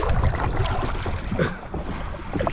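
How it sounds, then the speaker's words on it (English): Steady wind rushes and buffets across open water beside a fishing kayak, a broad continuous roar with gusty swells and no voices. "This wind has now kicked me off the water."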